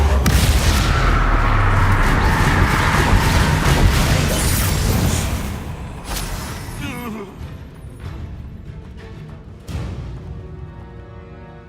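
A Bombarda explosion spell cast in Hogwarts Legacy, a loud, sustained booming blast that rumbles on and then fades into scattered crackles and debris as game sounds continue.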